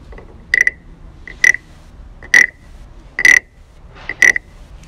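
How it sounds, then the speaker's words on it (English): A Thai wooden frog instrument in a garden hut, giving five loud, evenly spaced rasping croaks, each a short ratcheting burst separated by quiet gaps of about a second. "That's the sound of a Thai wooden frog"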